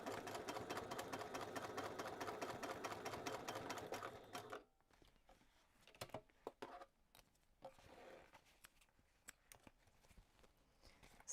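A sewing machine stitching a seam on a lined zipper pouch, a fast, loud, steady mechanical chatter for about four seconds, then stopping, followed by quiet handling clicks and rustles.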